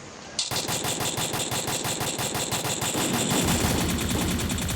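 Rapid automatic gunfire rattles in a shooting video game, loud and sustained, with a dense stream of shots that keeps going throughout.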